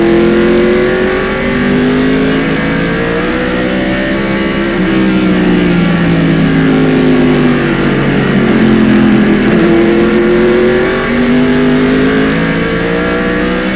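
Stock cars roar past at the 1995 First Union 400, a loud, continuous wall of engine noise with several overlapping pitches rising and falling as the pack sweeps by.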